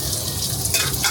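Chopped onion frying in neutral oil in a pan over medium-high heat, giving a loud, close, continuous sizzle with a brief stirring flare near the end and no talking.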